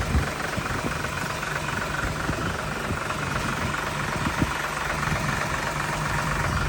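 An Isuzu 6HE1 turbo diesel truck engine idles steadily, a dense continuous rumble with a faint knocking texture throughout, close and even in level with no breaks.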